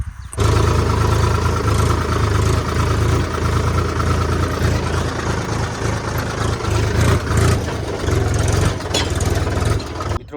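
A tractor engine runs steadily in a sugarcane field before ridge-making work, a loud, close, continuous low rumble that holds an even idle throughout with slight surges.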